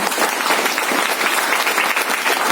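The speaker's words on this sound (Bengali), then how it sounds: "একটা হাততালি হোক।" An audience at a talk on spirulina breaks into applause, dense steady clapping from many hands filling the room, loud and close with no speech over it.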